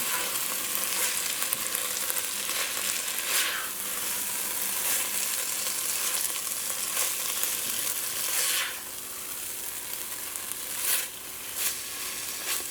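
Seasoned flour frying in a curry powder mixture in a pan, a steady dense sizzle throughout with occasional louder bursts of crackle as it is stirred and tossed, close and alone without talk.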